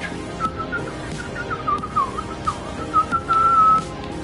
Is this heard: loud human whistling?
yes